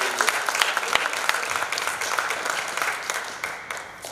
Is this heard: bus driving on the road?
no